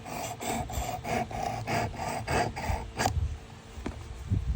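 A vintage Gerber Sportsman knife blade is drawn across a sharpener in about eight rhythmic rasping strokes, close and fairly quiet, followed by a few softer scrapes and handling noises.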